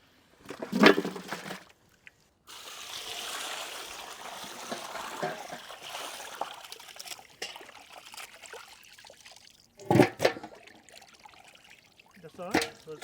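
Water runs steadily from a tap for several seconds, splashing and trickling as raw chicken is rinsed, with occasional clatters and a voice at the edges.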